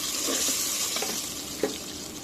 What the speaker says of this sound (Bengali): পেঁয়াজটা ভেজে নিলাম, এখন একটু পানি দিয়ে দিব।